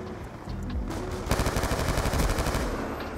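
An automatic gun fires in Black Ops 2, a close, loud rapid burst of evenly spaced shots starting after a short quiet lead-in and continuing to the end.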